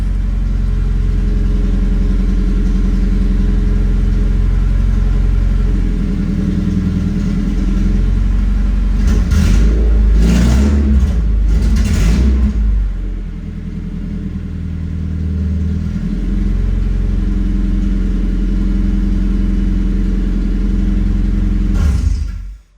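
A 2018 Subaru BRZ with a swapped-in K24 engine and Haltech ECU idles loudly and close by with a deep, steady rumble, briefly revving up around the middle before settling back to idle and cutting off at the end.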